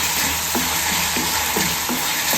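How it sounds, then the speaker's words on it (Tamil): Ginger garlic paste sizzles in a hot pan for a butter bean kurma, a loud steady frying hiss with a few soft scraping stirs at regular intervals. "நல்லா கொஞ்சம் இஞ்சி பூண்டு வாசம் போகிற வரைக்கும் கொஞ்சம் வதக்கலாம்."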